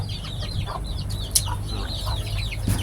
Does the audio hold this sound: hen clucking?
yes